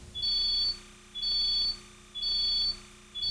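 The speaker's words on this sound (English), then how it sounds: "All interior and exterior sirens will emit a slow on-off alarm sound" A high electronic alarm tone from a Rollins System VI security system's police alarm pulses on and off slowly, about half a second on and half off, repeating evenly with no voices.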